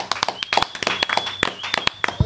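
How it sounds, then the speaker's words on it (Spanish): Close, crisp hand claps on a podcast set, an irregular string of loud individual claps from a few people, with brief voices mixed in. "Un aplauso."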